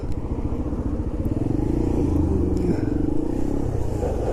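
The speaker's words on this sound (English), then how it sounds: "Look at me being sensible and getting out of the way for a big bike." A big motorcycle rumbles past on the road, a steady low engine drone that swells slightly as it goes by, heard from another rider's bike.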